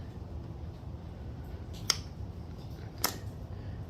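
Two sharp snips cut through weedwhacker fuel line, isolated and close, separated by about a second over a quiet background hiss.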